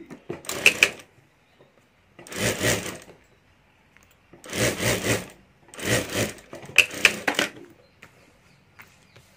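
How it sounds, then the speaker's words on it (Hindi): A sewing machine stitches a wallet's lining to a zip in five separate runs, each a couple of seconds of steady mechanical whirring, with short quiet pauses between runs. "और अभी यहाँ हमें सिलाई कर देनी है।"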